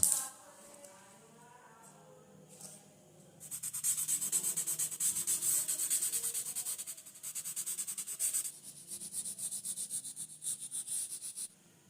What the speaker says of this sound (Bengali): সফট প্যাস্টেলটা আছে সেটা ঘষে দিচ্ছি এবং ঘষে দেওয়ার পরে সেটাকে ভালোভাবে কাপড় দিয়ে হোক আঙুল দিয়ে হোক কিংবা ব্লেন্ডিং স্টাম্প দিয়ে হোক ভালো করে ঘষে ব্লেন্ড করে দিতে হবে